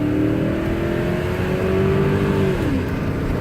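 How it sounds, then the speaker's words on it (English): A car held at full throttle, its engine note rising steadily and loud for a few seconds before dropping sharply at the 1-2 gear shift. "You're going to full throttle it until you get a 1-2 shift"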